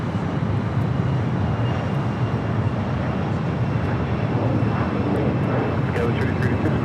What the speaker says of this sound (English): up next is the Swiss 777.